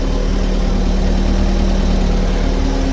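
A 2013 Sylva J15 kit car fitted with a racing Ford Puma 1.7 engine idles steadily, its low, even rumble loud and close throughout with no talk.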